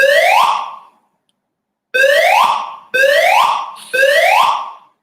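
An alarm goes off during a guided meditation session, sounding loud repeated sweeping electronic tones in four long bursts with a gap after the first, no voices over it.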